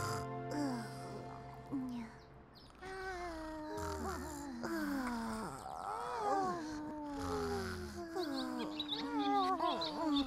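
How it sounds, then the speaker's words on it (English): High, tonal chirps from a baby bird in a cartoon, repeated in short sliding calls throughout over a busy background of music and other animated sounds. "Chirp, chirp, it's the middle of the night."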